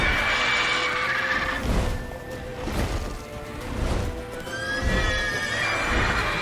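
Roach, Geralt's horse in The Witcher 3, neighs loudly in several shrill whinnies over the clatter of hooves, and thumps and crashes from the game mix in. No one speaks.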